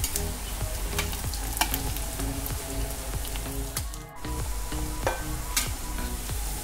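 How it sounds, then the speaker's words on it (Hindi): Chinese pakoras deep frying in hot oil give a steady, loud sizzle and bubbling crackle with repeated stirring scrapes, briefly dipping around the middle before resuming, with no voices. "अच्छे से फ्राई होने देंगे।"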